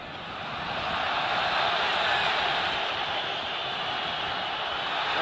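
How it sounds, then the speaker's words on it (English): Dense, steady roar of a large football stadium crowd at a World Cup 2006 qualifier, Serbia and Montenegro against Spain, swelling slightly at the start and then holding a constant wash of noise with no distinct voices. "the crowd is into it as we would have expected"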